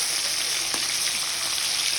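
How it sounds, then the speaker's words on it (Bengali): Fish fries in hot oil in a pan, giving an even, close sizzle with a light crackle that holds steady for the whole moment. "এখানে মাছ ভাজা হচ্ছে।"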